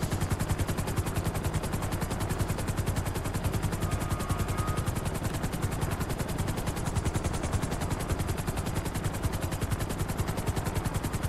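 A damaged helicopter in GTA 5 Online flies nearby, a loud, relentless rapid chop of rotor blades that stays constant throughout with no talk.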